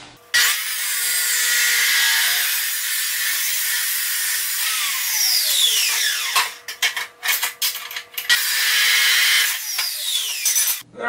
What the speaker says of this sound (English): abrasive cutoff saw here.